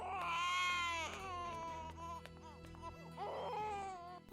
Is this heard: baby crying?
yes